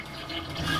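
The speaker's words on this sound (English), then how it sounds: "So to drain the dish machine, you would pull the lever up and you can hear the water draining out." Water rushes steadily out of a commercial dish machine after its drain lever is pulled up, a close, continuous gurgling wash with no voices over it.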